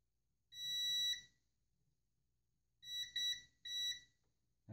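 A multimeter set to continuity mode gives clean electronic beeps while pins are checked during a PC build: one sustained tone, then a short cluster of two or three quick beeps, clear against a quiet background.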